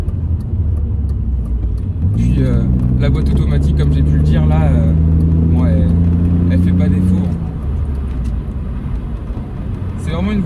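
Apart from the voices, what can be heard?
BMW Z3 2.2 six-cylinder engine while driving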